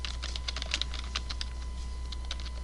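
Someone types on a computer keyboard in a quiet room, producing a rapid, irregular run of close key clicks over a low steady hum.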